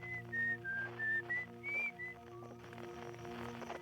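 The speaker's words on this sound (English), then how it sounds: "Got some whistling, though." Outer Wilds game whistling, a clear sliding melodic whistle in a few short phrases over a soft sustained musical backdrop, fairly faint overall.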